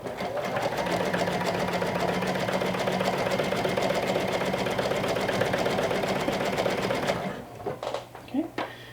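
A sewing machine runs steadily while stitching a garment up toward the V point, a dense continuous mechanical whir lasting about seven seconds before stopping, followed by a few faint handling clicks.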